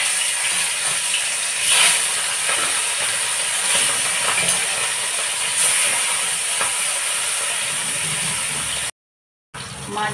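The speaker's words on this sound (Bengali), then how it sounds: "মাছগুলো ভেজে নিই, তেল গরম হয়ে গেছে।" Small rohu fish fry in hot oil in a wok, giving a dense, continuous hiss with occasional sharper spits and crackles throughout, cut by a brief gap near the end.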